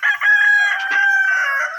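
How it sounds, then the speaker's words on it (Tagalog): A rooster crows in one long, loud call that holds steady close by, with a brief cluck from other chickens partway through and no talking. "Daming manok pala dito."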